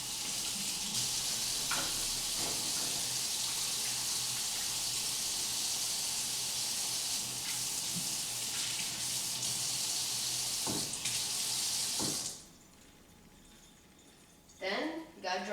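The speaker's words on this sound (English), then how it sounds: "So go by your local sink and wash." A kitchen tap runs steadily at a sink while hands are washed, a loud even rush of water lasting about twelve seconds before shutting off, followed by a brief voice.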